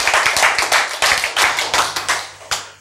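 A church congregation claps in short rhythmic bursts during a sermon, the sharp hand claps close and loud, coming in quick grouped beats that pause briefly and then resume.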